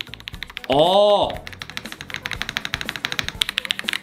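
Typing on a Dark Project ALU87 wired mechanical keyboard with hot-swap switches: rapid, close, crisp key clacks in an uneven run, preceded by a brief spoken word.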